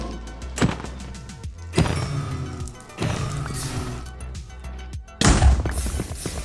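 Bed exploding in the Nether in Minecraft, several sharp blasts spaced a second or so apart with rumbling tails, the last one loudest.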